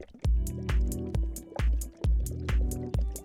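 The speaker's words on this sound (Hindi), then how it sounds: "कढ़ाई में उबाल आ रहा था और फुफकारने की आवाज आ रही थी।" A cartoon cauldron bubbles in a steady rhythm, about seven thick liquid plops and gurgles in a row, each with a wet splashy top.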